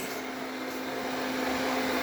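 A Viomi S9 robot vacuum cleaner, just repaired for a radar sensor fault, runs on test with a steady, even whirring hum that holds at a constant level throughout, close by and with no one talking over it.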